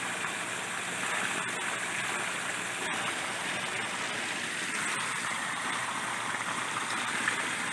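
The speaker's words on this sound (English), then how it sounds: "then just turn the water on up there just for some water exchange" Water running steadily into breeding tanks for a water exchange, a constant hissing rush with a few faint knocks, moderately quiet and uninterrupted, no talking.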